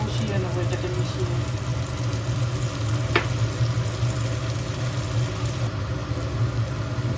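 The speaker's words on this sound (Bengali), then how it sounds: "সেটা ভালো করে মিশিয়ে দেবো, কষিয়ে নেবো এটাকে মিশিয়ে।" Okra masala with whisked curd being stir-fried in a pan, giving a steady, loud sizzle over a low constant hum, with one brief sharp scrape partway through.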